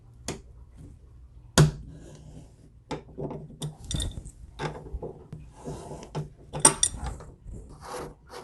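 A Moen kitchen faucet cartridge being unscrewed gives scattered close clicks, scrapes and light metallic ratcheting knocks, quiet and irregular, with no talk.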